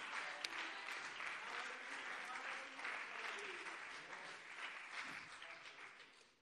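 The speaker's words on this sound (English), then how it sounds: "Let's clap our hands to the Lord" A church congregation claps its hands in worship, a continuous, fairly even round of clapping lasting several seconds, with voices audible beneath it.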